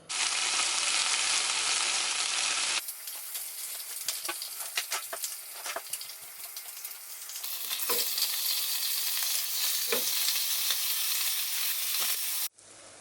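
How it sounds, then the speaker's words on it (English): Halloumi and bacon fry in a home kitchen pan, giving a loud, steady sizzle that drops to a busier crackle with occasional clatter of stirring, then cuts off abruptly near the end. "we're gonna get the halloumi and bacon going too"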